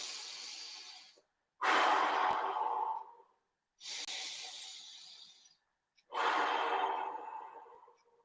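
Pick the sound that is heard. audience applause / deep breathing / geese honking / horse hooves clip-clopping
deep breathing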